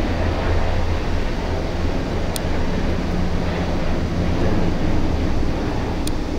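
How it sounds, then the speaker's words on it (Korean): A noisy helicopter overhead gives a steady, loud, broad roar with a low rumble underneath that fills the whole stretch without a break. "헬리콥터가 시끄럽네요."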